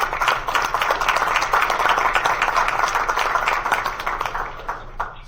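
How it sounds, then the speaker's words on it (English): An audience at a Saratoga County board meeting gives a steady round of applause, dense and even for about five seconds before it thins out at the end. "So how about a round of applause?"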